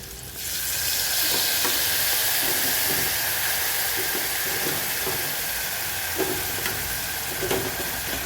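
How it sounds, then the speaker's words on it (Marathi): Varai rice is sautéed in a pan with green chili and turmeric, giving a loud, continuous sizzle with soft scraping stirs throughout and no voices. "ते थोडा वेळ परतून घ्यायचे म्हणजे भात मोकळा होतो"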